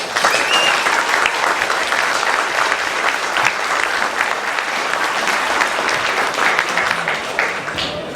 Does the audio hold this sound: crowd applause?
yes